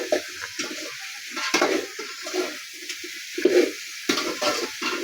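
Food sautés in a large pan over the flame, a soft broadband sizzle with intermittent stirring scrapes and clatters, moderately close and steady, no talking.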